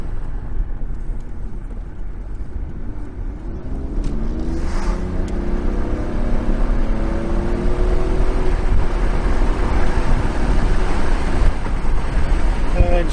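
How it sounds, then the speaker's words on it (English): 1991 Toyota Soarer 2.5GT-T twin turbo accelerating from inside the cabin, engine note climbing steadily in pitch and growing louder over road rumble as it pulls through the revs. "Give it a bit of a burst along here."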